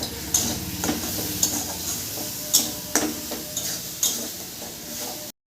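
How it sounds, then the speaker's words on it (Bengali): A spice paste with turmeric fries for crab curry, a continuous sizzle broken by regular scraping strokes of a spatula against the pan, about one each second. "হলুদ গুঁড়ো আবার একটু ভালো করে কষে নেবো"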